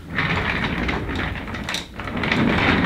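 An old office chair rolling on rubber casters, giving a steady rumbling roll with a low-end hum that runs continuously, dips briefly near the middle, then resumes louder, close to the microphone.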